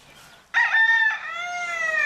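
A rooster on a goat farm crows once, loud and close, with a sharp opening followed by a long, strained trailing note after a brief quiet lead-in.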